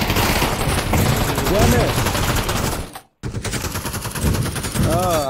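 Rapid bursts of automatic gunfire from the VR shooter game Pavlov VR, loud and close, with rattling volleys before and after a brief silent gap, and a voice speaking briefly over the shots.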